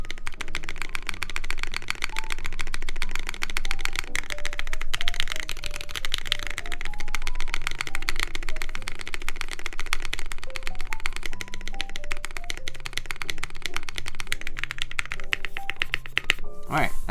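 Typing on a newly built KBD8X MKII mechanical keyboard, a dense rapid stream of close clacky keystrokes running throughout while a person talks over it.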